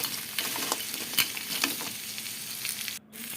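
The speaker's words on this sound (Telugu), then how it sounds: "క్రాబ్స్ అనేవి దీంట్లో వేసుకొని మనం బాగా ఒకసారి ఫ్రై చేసుకుందాము." Sea crabs frying in a pan, a steady close sizzle broken by occasional stirring scrapes and clicks, with no talk.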